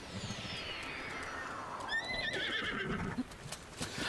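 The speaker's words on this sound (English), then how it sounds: "Let's call a horse and maybe we can catch up." A horse in a video game lets out a long, clear whinny that rises and trails off, under a steady background of hoof clip-clop and ambient game noise.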